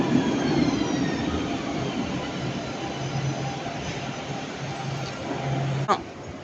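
Nice tram on line 2 heading toward the airport, rolling past with a steady rumble and rail noise, a brief clack near the end, moderately loud and continuous.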